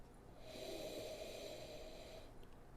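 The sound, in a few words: big sniff of gin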